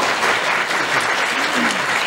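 Loud, dense applause from the audience at a charity gala, a continuous roar of many hands clapping close by throughout the short stretch.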